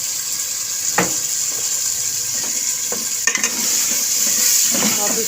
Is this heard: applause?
no